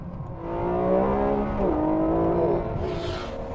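A Ferrari 599 GTO engine revs hard with traction and stability control switched off, a loud, close, continuous roar that rises in pitch, dips briefly, then climbs again before fading.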